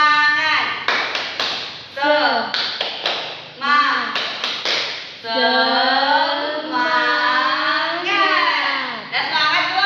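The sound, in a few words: class doing the 'tepuk semangat' clapping chant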